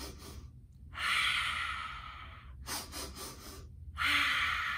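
A voice imitates a rabbit sniffing through its nose, giving three drawn-out nasal inhalations with short pauses between, close and clear.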